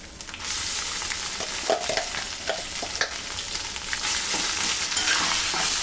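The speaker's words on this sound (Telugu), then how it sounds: "ఇప్పుడు ఇందులో ఏదైతే పచ్చడి ఉందో అది వేస్తాం" Steady loud sizzling of cabbage-tomato chutney frying in hot tempering oil, with occasional clinks and stirring scrapes throughout.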